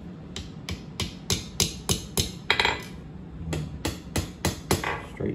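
A hammer strikes hot steel while forging a hook on a coal swab: about a dozen sharp, ringing blows in a steady rhythm, close and alone.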